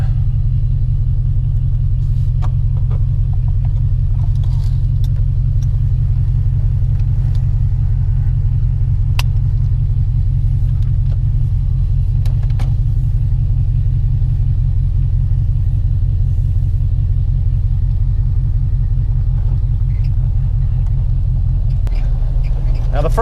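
Dodge Charger General Lee engine on the road, a loud, constant low rumble from inside the car with steady drone and faint rattles, no clear revving peaks.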